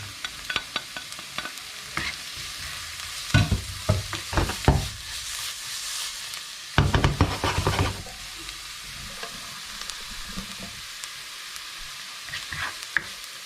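Garlic fries in a pan until golden brown, producing a continuous close sizzle broken by louder clusters of stirring and spatter crackles, with no talking.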